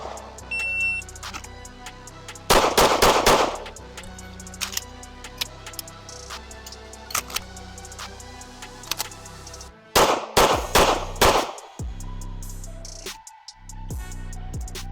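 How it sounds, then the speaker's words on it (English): Metallic clicks and clacks of a Sig Sauer P211 GTO pistol being reloaded, an empty magazine slapped into a large magwell and the slide worked, in sharp close bursts with quiet gaps between them, with no talking. "reloading this thing is a dream, as long as you don't fumble it"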